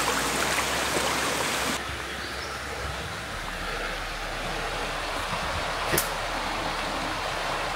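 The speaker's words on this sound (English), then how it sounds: "Nice shot of the creek." Creek water runs steadily alongside a trail through a nature preserve, a continuous broad rushing wash with a brief louder splash near the end and no voices.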